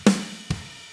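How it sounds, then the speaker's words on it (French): A kick drum from the Addictive Drums virtual instrument: two close, punchy thumps, the first louder than the second, each with a short low-end decay. Played alone, without speech. "On écoute ensemble le kick de ma batterie Addictive Drum."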